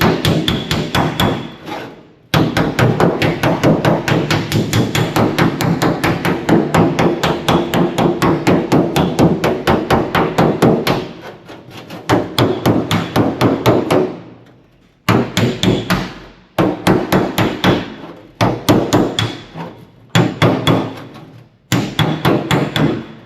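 Steel hammer striking sheet metal held against a universal dolly while smoothing minor ups and downs on a Power Wagon door; rapid, steady close taps in long runs, pausing briefly, then resuming in shorter bursts.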